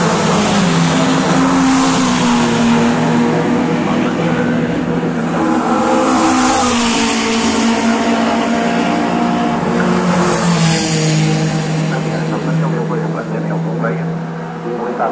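Race cars speed past during a race, their engines roaring loud and continuous with rising and falling whines and some tire noise, while a voice talks over the steady engine noise throughout.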